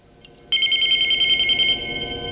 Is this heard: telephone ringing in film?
yes